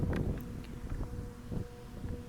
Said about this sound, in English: little bit windy here.